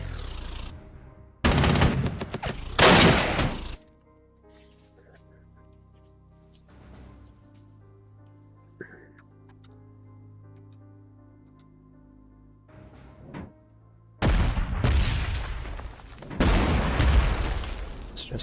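Artillery fire in the Panzer Corps 2 strategy game: a loud cluster of blasts and crackling bursts, then a quiet stretch of low hum and faint tones, then another long, dense volley of explosions.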